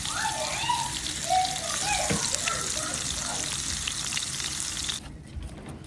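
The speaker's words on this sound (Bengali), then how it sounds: "তেল গরম হয়ে গেলে মাখানো মাছগুলো দিয়ে দিচ্ছি।" Marinated fish fry in hot oil with a bubbly, crackling sizzle, close and moderately loud. It stops abruptly near the end, and a faint voice-like sound drifts over it.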